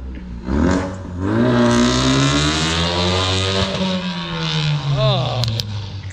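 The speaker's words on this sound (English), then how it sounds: "I really hope he revs it or does something." A Ford EcoBoost car engine revs up nearby, holding a loud, rising and falling roar for several seconds before easing off, then sharply blipping once more near the end.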